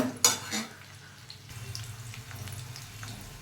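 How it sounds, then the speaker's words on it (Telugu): Green chillies and onions dropped into hot oil in a pan, a sharp sizzle right at the start followed by a soft continuous frying hiss with faint stirring, near and fairly quiet. "పచ్చిమిర్చి ఉల్లిపాయలు కట్ చేసుకున్నాను కదా అవి వేసుకోవాలి"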